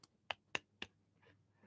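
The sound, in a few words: hand clapping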